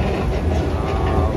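A Hong Kong MTR train on the line from Admiralty to South Horizons gives a steady, loud rumble with a faint rhythmic clatter of wheels on track, with no talk.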